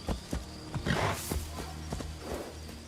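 Horse hooves in a video game as the rider dismounts: several soft, uneven thuds with light swishes, close and moderately loud, without talk.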